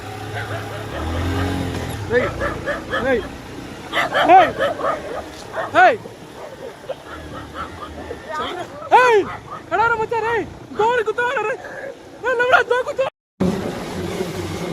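A dog barks repeatedly near a lake, sharp yips and barks coming in bursts at moderate distance, mixed with people talking and shouting throughout.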